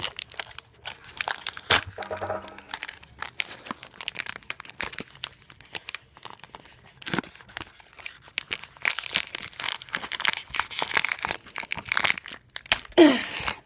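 A package from a subscription box is torn and crinkled open by hand, with irregular bursts of crumpling plastic and paper, sharp rips and rustles close to the microphone, growing busier toward the end.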